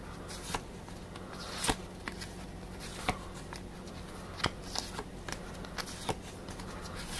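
Monopoly cards (2021 edition) flipped quickly one after another, giving a run of soft papery slaps and flicks at an uneven pace, close up, with no talking.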